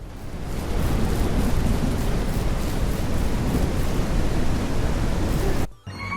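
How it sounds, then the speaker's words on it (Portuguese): Steady heavy rain pours outdoors in a dense, continuous hiss, loud and close, with no voices, cutting off abruptly near the end. "Vai chover? Não. Tá chovendo."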